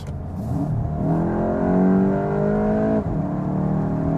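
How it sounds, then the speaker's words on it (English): A Volkswagen Golf GTI in sports mode accelerates hard from 65 to 100 on a German autobahn. The engine note climbs steadily and loudly for about three seconds, dips briefly at an upshift, then keeps pulling. No one speaks. "Now let's go to the sports mode and do an acceleration."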